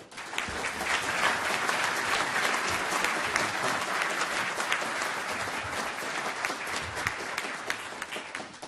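An audience applauds to welcome Secretary Aldona Voss at the dedication of Marsico Hall, a dense steady roomful of clapping that holds at full strength and tapers slightly at the end.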